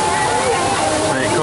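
Waterfalls on a theme park ride at Blackpool Pleasure Beach pour with a loud, steady rushing splash, with voices mixed into the noise.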